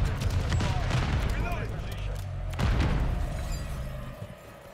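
Rapid HRM-9 submachine gun fire in Call of Duty: Modern Warfare 3, loud and continuous bursts with booming hits throughout, a heavier blast around the middle.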